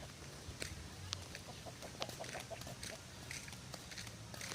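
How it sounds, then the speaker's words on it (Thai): Laying hens on a farm cluck softly in short, scattered bursts at a moderate distance, with a faint background hum and no talking. "ตามน้องแบงค์ไปเลย ไปเก็บไก่ไข่อารมณ์ดีกันนะคะ"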